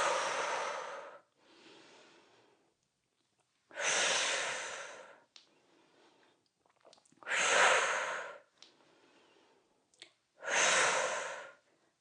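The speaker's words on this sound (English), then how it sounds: "Inhale when you bend. Exhale when you straighten." During dumbbell squats, loud close breaths rush in and out in a slow, regular rhythm, with strong exhales alternating with softer inhales and short pauses between them.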